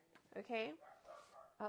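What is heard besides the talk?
dogs barking in the background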